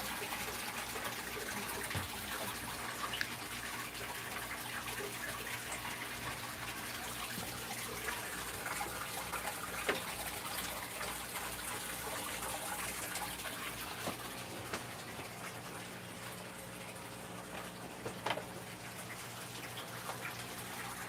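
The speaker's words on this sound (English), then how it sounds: "Let me take water out of this tank." Water is siphoned out of a home aquarium during tank maintenance, a steady faint trickling and gurgling wash that runs the whole time with no pauses and no voices.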